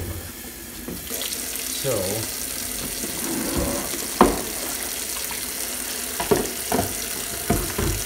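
Tap water runs steadily into a kitchen sink, filled as rinse water for washing dishes by hand, with a continuous close splashing rush and a few clinks of dishes. A person speaks briefly over the running water.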